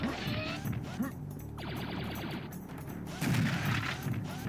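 Shotgun blasts in Serious Sam: The First Encounter against biomechanoid miners, several quick successive shots with rattling, clattering impacts, loud and close amid game effects, a burst more at the end.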